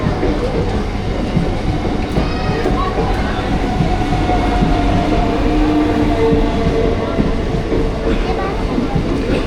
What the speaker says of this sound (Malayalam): നമുക്ക് പോകാനുള്ള വണ്ടി വന്നു. ICF മെമു ആണ്.